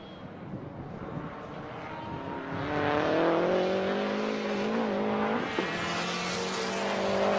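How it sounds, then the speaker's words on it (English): A white Subaru race car pushes hard through corners on a circuit track, its engine note rising and falling steadily with revs, fairly close and loud over continuous wind and road rumble. "I know you guys saw that white Subaru right there pushing it through the corners"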